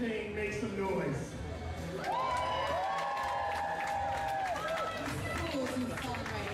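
A roller derby crowd cheers and yells in a busy arena, with a steady wash of voices and some whoops, while an announcer speaks over the noise.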